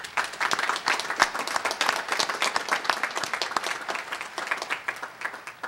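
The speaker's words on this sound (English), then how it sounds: "Let's recognize her once more with our applause" A commencement crowd applauds, many hands clapping in a lively, crackling roll heard from a short distance, steady throughout with slight swells and no speech on top.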